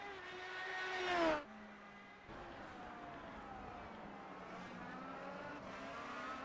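An IndyCar race car engine at the Motegi circuit during a race, heard fairly faint and distant: it whines as it revs up, cuts off abruptly, then settles into a steady lower drone.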